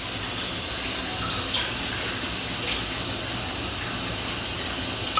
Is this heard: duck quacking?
no